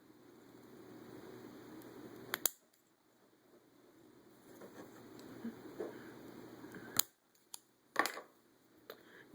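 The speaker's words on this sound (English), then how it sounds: "I'm going to go ahead and cut off where it was hanging on so it won't be visible." Scissors snip through craft material while trimming a traditional mum ring, a few sharp close cuts spaced several seconds apart over quiet rustling.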